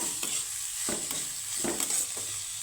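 Chopped vegetables with tomato and chili stir-fried in a pan, a steady close sizzle broken by several scraping stirs spaced roughly every second, no voices.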